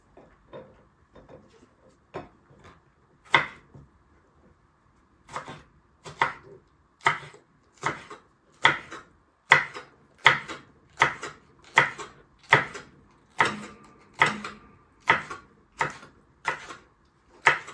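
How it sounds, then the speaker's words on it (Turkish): A knife chops Charleston peppers and kapya peppers on a cutting board, a few scattered cuts, then a steady run of sharp, evenly spaced chops close by. "Charleston biber doğradıktan sonra bir tane de kapya biber doğrarsak"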